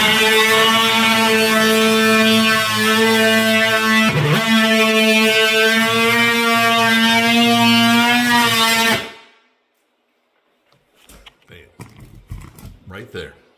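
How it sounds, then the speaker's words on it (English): Oscillating multi-tool cutting a hole for an electrical box in a kitchen wall, a loud steady buzzing drone with a strong harmonic whine for several seconds, then stopping abruptly, followed by faint handling clatter. "But these are literally electrical box cutters."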